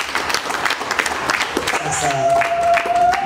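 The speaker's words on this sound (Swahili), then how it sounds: "Hebu tupe makofi matukufu." Audience applause at a family-themed talk or gathering: scattered clapping that builds, while a voice speaks over it and a sustained tone sounds near the end.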